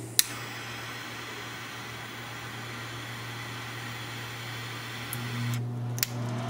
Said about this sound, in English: now that we've got our blower running